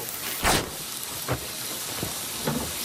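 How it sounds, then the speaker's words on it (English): A hot sub sizzles on a grill at a Jersey Mike's: a constant loud hiss with a few sharper, spitting surges that flare up and fade. "Look at that sizzle. Grilled right in front of you."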